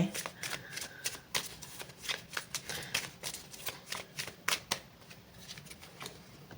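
Tarot cards are shuffled close up in a quick, rhythmic series of crisp riffling flutters, each burst snapping off sharply and repeating steadily for several seconds.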